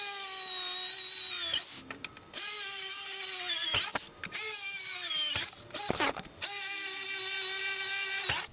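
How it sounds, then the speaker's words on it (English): A power drill bores a hole through a 2x4 board, its motor whining steadily and loudly with a few brief pauses and restarts, close up and without talk. "you're going to want to drill another hole on every single 2x4"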